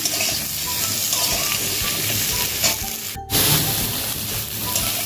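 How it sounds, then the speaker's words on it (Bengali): Sliced pointed gourd (potol) sizzling in hot oil in a kadai for a potol and prawn dish, a steady loud frying hiss close by with a brief stir-clatter break midway. "এবার ওই তেলের মধ্যে আমি কেটে রাখা পটলগুলো দিয়ে দেব"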